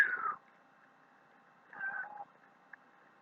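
A cat meows in two short, bright calls indoors, with a brief faint chirp following, all close and alone against quiet background.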